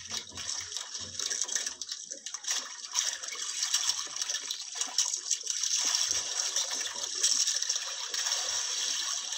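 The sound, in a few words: sea water noise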